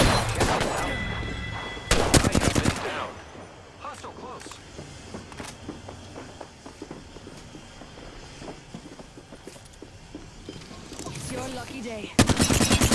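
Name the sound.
gunfire in the Apex Legends video game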